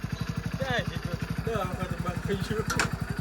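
A motorcycle engine idles close by with a rapid, even putter while people talk over it.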